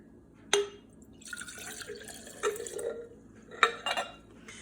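Coconut vinegar is poured into a jar in a kitchen, giving a few short splashy bursts and liquid trickles, with light glassy clinks between them, close and fairly quiet.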